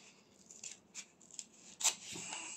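Small scissors snipping through soft toilet paper for a homemade Christmas craft, giving a few quiet, crisp cuts and light rustles, with one sharper snip near the end.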